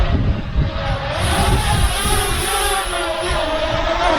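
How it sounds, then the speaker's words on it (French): Potensic Atom LT drone flying outdoors, its buzzing rotors forming a continuous droning whine with strong low rumble, close and loud, no speech over it. "il a l'air de super bien fonctionner, ce drone."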